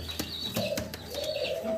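Lotan pigeons squabbling, with short cooing notes and chirps mixed with sharp flaps and scuffles, close and fairly quiet.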